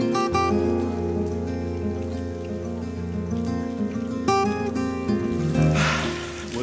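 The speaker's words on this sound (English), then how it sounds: "A week and a half of traveling, and it's bloody raining." Rain falls steadily in Malaga, a continuous patter that holds at an even level through the whole stretch, with a steady tonal hum running underneath.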